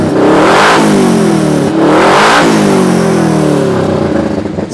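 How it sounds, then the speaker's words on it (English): A 2020 Kawasaki KRX 1000 side-by-side with its exhaust quiet core installed revs loudly and close up in two rising swells, its engine note climbing and falling back each time, with no voices. "So I'll let you kind of hear the exhaust here. This is with the quiet core in."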